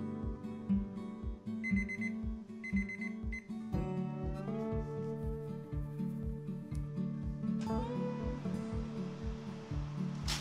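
An oven timer alarm rings in a repeating electronic pattern, loud and close, pulsing steadily throughout while sausage rolls made with puff pastry bake.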